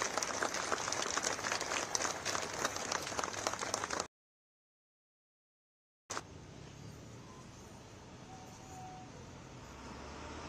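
Outdoor Veterans Day audience in Truckee applauding cadets and the Civil Air Patrol, dense clapping for about four seconds, a silent gap, then faint outdoor ambience with distant traffic.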